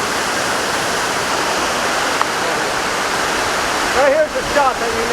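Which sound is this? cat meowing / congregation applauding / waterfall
waterfall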